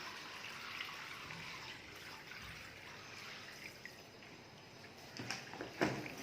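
Water trickling and dripping from a mop wrung out in a dual tub mop bucket, a faint, steady wet trickle with a few louder splashes and drips near the end.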